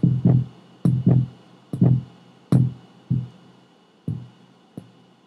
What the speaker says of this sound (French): le battement de cœur, c'était peut-être pas la meilleure idée pour choisir quelque chose